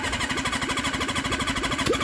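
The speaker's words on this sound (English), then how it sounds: "the easiest way to know if your engine is going to run" A Suzuki GS750 motorcycle engine running without carburetors, firing in a rapid, even, uneven-edged pulsing rhythm close to the mic, loud and mechanical with no voices over it.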